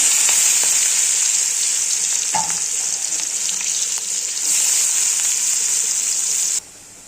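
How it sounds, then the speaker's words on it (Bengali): Chopped onion frying in oil previously used for fried fish, with nigella seeds and a dried chilli, gives a steady bright sizzle close by, a brief clink partway through, then the sizzle drops off sharply near the end; no talking. "পেঁয়াজটা একটু ভাজা ভাজা হলে"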